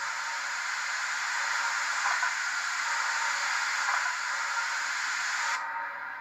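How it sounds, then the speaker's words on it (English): A steady, airy hiss of static-like noise from the sound system of a Blackstone Models HOn3 C-19 model locomotive holds for several seconds without a break, then cuts slightly near the end. "You heard a hiss there"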